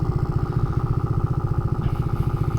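A Honda Monkey motorcycle fitted with an oil cooler idles low at operating temperature, its small engine thumping in a steady, even, close-up rhythm.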